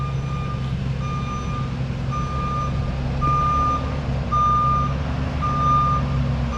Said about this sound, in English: We got to get these big old trucks back here. We can't turn around. We got to back up.